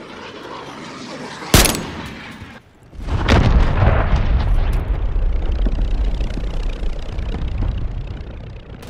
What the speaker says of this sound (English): airstrike near your location